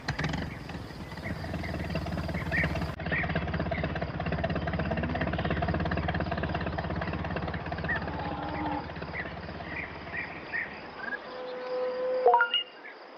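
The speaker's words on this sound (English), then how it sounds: "Peter Fogg brought the tractor to tow Pat out" A cartoon tractor engine idles and rumbles steadily, with insect-like chirps and a few faint tones over it, ending in a sharp squeal.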